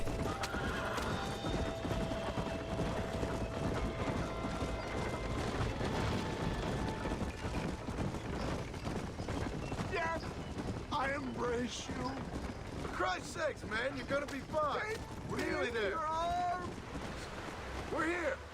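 A galloping horse in Red Dead Redemption, with pounding hooves and neighs amid game noise, while a person talks excitedly over it in the later part.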